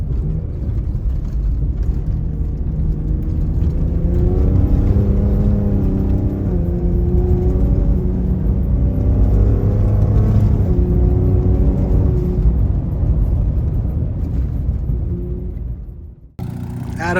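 Ford Raptor pickup truck engine cruising steadily at highway speed, a loud continuous low rumble and whir with layered harmonic tones holding fairly constant, then dropping off abruptly near the end.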